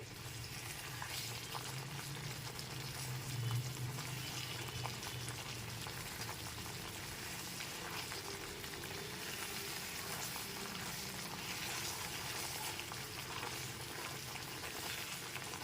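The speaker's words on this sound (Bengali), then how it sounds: "চিনিটা ক্যারামেল তৈরি হয়ে গেছে এরপর একটু খুন্তিটা দিয়ে একটু নেড়ে দিচ্ছি" Sugar caramelizing in a pan on a low gas flame, a steady soft bubbling sizzle with light stirring from a spatula, close but quiet and without talk.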